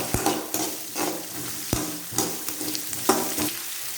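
Chopped onion with curry leaves and urad dal frying in a pan, steady sizzle broken by repeated scraping strokes of a spoon stirring, close and alone.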